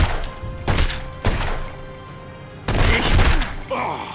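Gunfire from The Godfather: Don's Edition on PS3, loud close shots arriving in separate bursts with short gaps between, some rapid and overlapping, with someone speaking between them.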